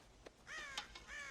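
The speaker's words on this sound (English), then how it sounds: "God damn crows!" Crows caw in the video game Red Dead Redemption, a few short harsh calls in quick succession, heard faintly and close together over a quiet background.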